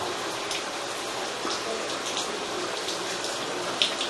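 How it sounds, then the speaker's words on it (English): Water runs steadily into a blocked drain pipe, a continuous close gushing rush with no one speaking. "we're gonna try and run some more water, see if it'll help us get through."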